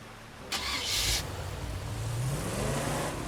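Car engine in the video game State of Decay 2 as the vehicle turns around, a steady mid-pitched motor drone with a brief burst of hiss near the start and a rising rev toward the end.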